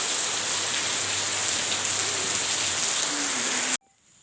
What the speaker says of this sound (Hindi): देखा आपने कितनी ज़्यादा बारिश हो रही थी।